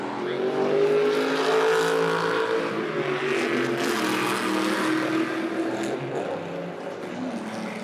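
Ford Mustang GTD race car passing at Laguna Seca Raceway, a loud sustained engine roar that swells and holds through the flyby with a steady high-revving tone and no speech.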